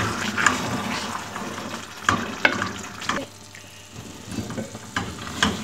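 Aloo methi, potatoes with fenugreek leaves, sizzles and fries on a high flame, giving a steady crackling hiss with occasional louder spatters and scraping stirs, close and continuous with no talking.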